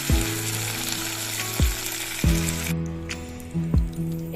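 Cloves, cardamom, cinnamon and a bay leaf sizzling in hot oil in a pan, with a steady frying hiss and several resonant metallic clanks from stirring at irregular intervals.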